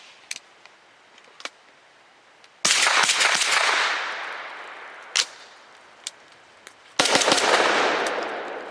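A Grand Power Stribog firing Silver Bear 115 grain zinc plated steel case ammo, two loud sharp shots with ringing decay, separated by a few smaller clicks and handling noises.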